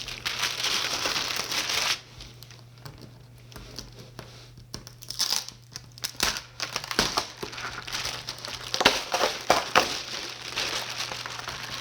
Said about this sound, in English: sticky tape came off very easy